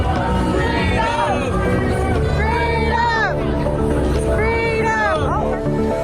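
A large crowd of Hawaii residents gathered in Waikiki makes a dense, continuous babble of many voices, with scattered shouts and whoops rising above the general hubbub.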